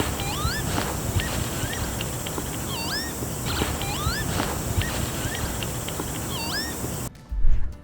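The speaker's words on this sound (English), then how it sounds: "We heard the maddest bird call" An unusual high-pitched bird call repeats in sweeping, whistled upward and downward slides several times over steady outdoor background noise in a megalithic landscape, fairly clear but not close.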